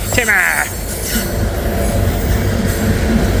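A freight train rolls past on a rail line, loud and close, with a high wheel squeal near the start over a steady heavy rumble and clatter of cars.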